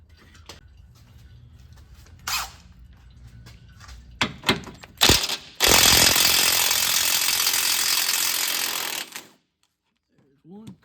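A 2005 Chevrolet Silverado's frame bolts are being removed with an impact tool during a steering box replacement, a few sharp bursts followed by a long loud continuous rattling whir that stops abruptly, with a faint voice afterward.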